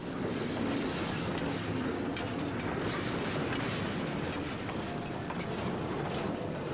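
Bolivian Death Train rolling along its line toward Puerto Suárez, a steady dense rumble of wheels and carriage noise with faint rhythmic clatter, continuous and fairly loud throughout with no voices.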